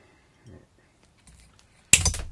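A single sharp cut through a hose, trimmed to length during engine work on a Mercedes-Benz, heard as a sudden loud snap after quiet handling noises.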